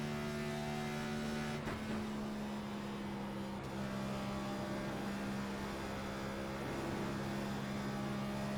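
Next Gen stock car engine in iRacing at Las Vegas drones steadily at a constant, loud pitch with a faint shift partway through, heard alone without talk.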